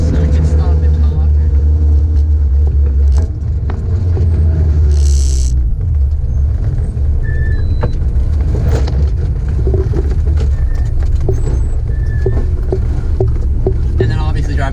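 A widebody car drives with a constant low engine rumble and road noise from inside the cabin, steady throughout with occasional small clicks and thumps, while a person talks over it.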